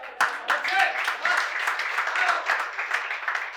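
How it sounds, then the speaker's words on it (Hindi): An audience at an open-mic poetry event in Lucknow claps in a dense, uneven patter that keeps going for a few seconds, with talk mixed in underneath. "ताली बजा सकते हैं आप लोग।"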